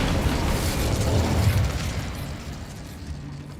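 Incendio fire spell cast in Hogwarts Legacy, a sustained roaring whoosh of flame with explosive pops, loud at first and easing slightly toward the end, heard alone without speech.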